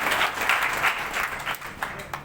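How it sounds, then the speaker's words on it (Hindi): An audience at a felicitation ceremony applauds a newly elected minister, a dense, steady burst of clapping that stays loud throughout and tapers slightly at the end. "जोरदार तालियां जाकर मैं इनका स्वागत कर दूं।"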